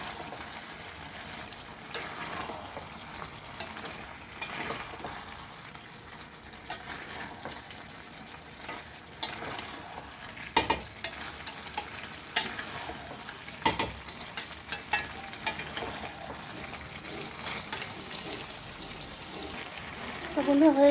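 Prawn masala being stirred and sautéed in a pan, with intermittent scraping and spatula clacks over a low sizzle, while a voice talks softly in places.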